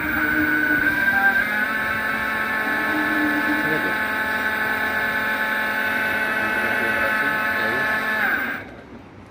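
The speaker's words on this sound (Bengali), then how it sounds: "মোটর ঘুরছে কিনা দেখে নিন" A 60V 1200W BLDC motor spins on a bench during a sensor replacement, a loud steady whine with layered tones holding evenly before cutting off abruptly near the end.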